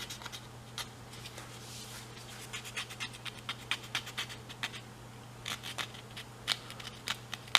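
Repeated short scraping strokes of a tool working tint film off a sunglasses lens, irregular scratchy bursts over a steady low hum, close and moderately quiet.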